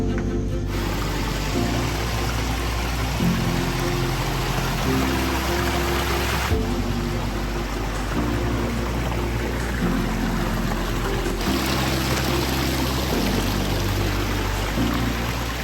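A pondless waterfall water feature at a 50-acre cemetery gives off steady, dense splashing and rushing water, continuous and fairly loud, under what sounds like a droning musical backing.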